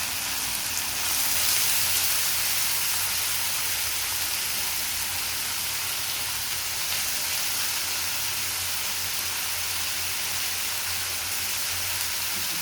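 Yam and carrot pieces fry in hot oil in a pan for aviyal, a Kerala vegetable dish, producing a steady, close hiss of sizzling that crackles continuously without talk.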